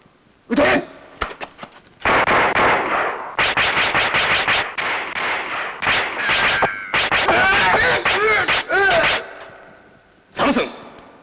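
Gunfire erupts after a spoken order to shoot, with loud bursts of rapid machine-gun fire and shots in several clusters, broken by short pauses, with shouting voices mixed among the shots.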